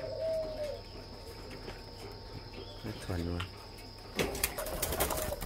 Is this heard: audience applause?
no